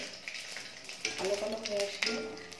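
Whole cumin and bay leaves crackling briefly in hot oil, a soft close sizzle with a couple of sharp pops, faint and short.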